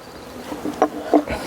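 Young honeybees in a crowded hive box give a faint, steady buzz, with a few brief louder passes of individual bees drifting near.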